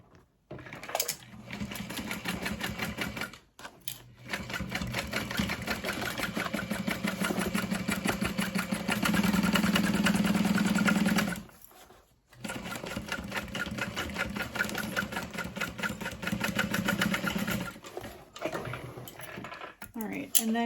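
A sewing machine runs long, steady stretches of rapid stitching along a tote bag seam at half-inch allowance, broken by brief pauses between runs, close and clear.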